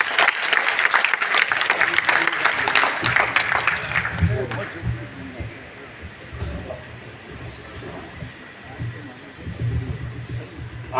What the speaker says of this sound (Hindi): एक बार पूरा सदन जोरदार तालियां बजाकर